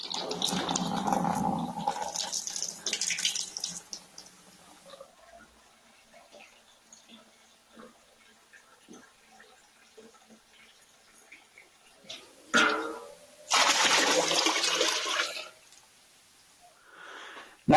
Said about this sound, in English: this is the hot tap water